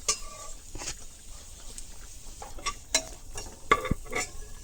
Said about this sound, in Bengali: দিয়া এটা খুব সুন্দর করিয়া কষানোর পরে ওরকম কষাই 1 মিনিটের মতো